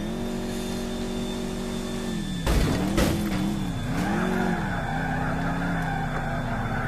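A modded BMW M5 in GTA IV rolling over and crashing: steady engine drone, then sharp impact thuds and scraping as the car tumbles, with tire noise and revving continuing afterward.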